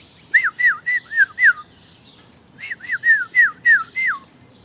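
Birds whistle bright, clear chirps in two close, loud bursts of about five quick notes each, separated by a short pause against a quiet background.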